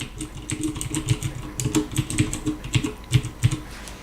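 Rapid, sharp mechanical keystrokes from a Corsair STRAFE RGB with blue switches, crisp and clicky, typed continuously up close with a few louder presses toward the end.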